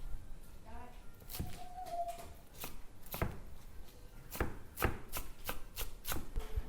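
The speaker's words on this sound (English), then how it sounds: "so I have some dill. I'll cut this up." A knife chops fresh dill and cilantro on a cutting board in a string of sharp, close thuds, irregular at first then quicker, with a brief clink and some low background talk between strokes.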